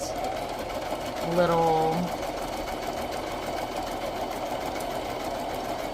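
A sewing machine set to a decorative stitch hums and whirs steadily while sewing the base of a flip-flop, with a short spoken word briefly heard over the running motor.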